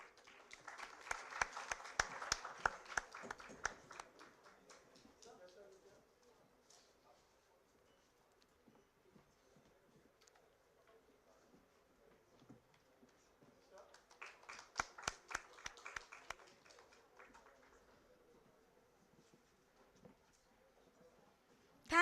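Audience applause at an MSME business conference in a college hall, two bursts of scattered, moderately near clapping separated by a quieter stretch with low murmuring voices between them.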